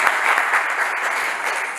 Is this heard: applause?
yes